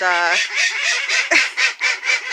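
Geese honk repeatedly and loudly in a fully enclosed poultry coop winterized against the Michigan cold, the noisy calls overlapping in rapid bursts.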